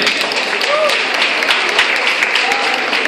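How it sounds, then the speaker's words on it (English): An audience at a live event applauds in a dense, continuous wash of clapping, with voices and cheering mixed in throughout. "Can we give a big round of applause to them?"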